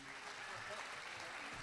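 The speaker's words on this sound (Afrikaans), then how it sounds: "Dok Isak, kom ons gee hom 'n lekker hande klap, familie." A church congregation gives a round of hand clapping during a worship service, a soft, steady wash of many hands that lasts throughout, with a voice faintly present.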